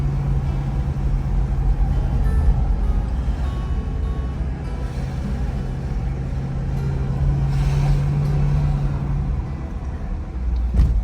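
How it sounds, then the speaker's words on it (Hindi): An oncoming vehicle approaches on a single-lane mountain road, heard as a steady engine and road rumble from inside a moving car, with a sustained low hum and mild swells in loudness. "सिंगल रोड, गाड़ी आ गई सामने से।"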